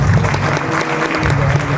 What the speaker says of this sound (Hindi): उस जीत के लिए एक बार जोरदार तालियां।